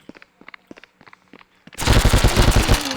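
Video game gunfire opens with sparse light clicks and footsteps, then erupts into a loud, sustained rapid automatic burst of shots filling the last second.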